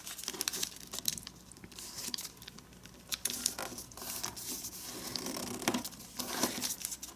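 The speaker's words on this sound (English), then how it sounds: "let's fold this edge to the top" A square of origami paper is folded by hand, giving soft crinkles and sharper creasing crackles in irregular bursts, close and fairly quiet, with no talking.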